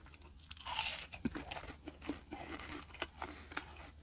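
Someone eats Jack in the Box fries dipped in sweet and sour sauce, making close, irregular crunchy chewing and biting sounds in quick bursts with no talk.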